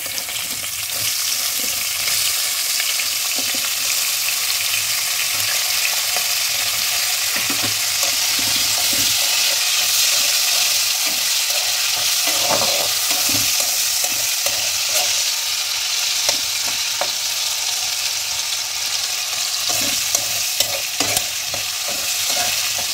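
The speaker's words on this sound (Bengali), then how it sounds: "এই আলুগুলোকে আমি ভেজে নেব।" Small pieces of potato fry in hot oil, a steady, dense sizzle that stays even and continuous, with occasional soft scrapes and clicks of stirring.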